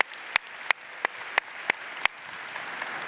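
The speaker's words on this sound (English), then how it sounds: "So again, big round of applause to everybody that came out in force." Applause at an enterprise AI and hybrid cloud event: a thin, fading crowd clap under six loud, evenly spaced sharp claps from one nearby pair of hands, about one every third of a second.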